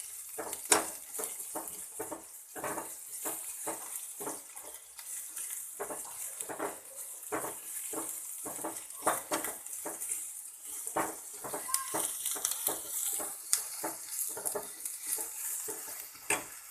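Sliced onion is lightly fried in a pan, with quick, repeated spatula scrapes and metal clicks over a steady, close sizzle and no talking.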